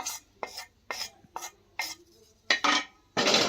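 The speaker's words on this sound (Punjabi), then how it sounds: "ਇਹ ਮਸਾਲਿਆਂ ਨੂੰ ਆਪਾਂ ਹੁਣ ਕੁੰਡੇ 'ਚ ਪਾ ਲੈਣਾ ਇਹਨਾਂ ਨੂੰ ਮੋਟਾ-ਮੋਟਾ ਜਿਹਾ ਕੁੱਟ ਲਾਂਗੇ" Roasted whole spices being pounded coarsely in a mortar, a series of sharp, close, ringing thuds at an irregular beat, about eight strikes, with brief gritty crunches between blows.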